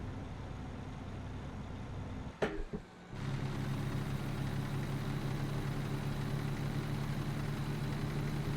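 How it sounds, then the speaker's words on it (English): Truck engine in American Truck Simulator, a low, steady droning roar that briefly cuts out during a view change, then returns louder and sustained with a firm low hum. "roar of the engine going"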